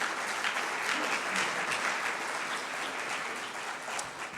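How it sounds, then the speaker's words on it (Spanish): Church congregation applauding steadily for the whole stretch, a dense, continuous wash of many hands clapping at a fairly even level that tapers slightly at the end, with no clear speech over it. "¿Le pueden dar un aplauso al Señor por lo que Él hace?"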